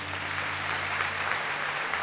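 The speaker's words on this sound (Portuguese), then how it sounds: "Você pode aplaudir o Senhor?" Brief congregation applause during a Portuguese-language church service, a steady wash of clapping hands over a low steady hum, lasting about two seconds.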